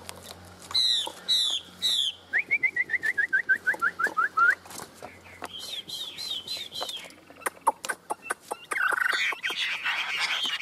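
A caged hwamei songbird sings up close in loud, varied phrases: quick rising whistles, a long run of repeated descending notes, then sharp chirps and trills with brief gaps.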